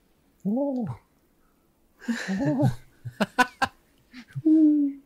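A man makes a few soft, cooing hoots imitating a pigeon, broken by pauses and short laughing bursts.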